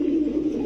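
Pigeons on a pigeon farm coo in a steady low murmur, close and continuous, with no voices.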